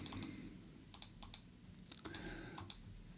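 Clusters of light, crisp computer clicks, a few in quick succession, sound close over a quiet room background.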